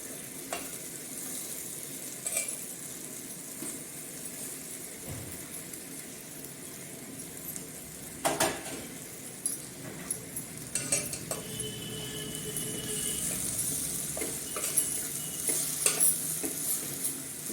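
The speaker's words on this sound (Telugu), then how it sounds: "ఈ ఆలు మొత్తం ఇందులో వేసేసుకొని కలపాలి" Potato pieces are stirred into fried seasoning in a pan, giving a soft sizzle with intermittent scraping and clinks of a utensil against the pan, fairly quiet and close, with no talking.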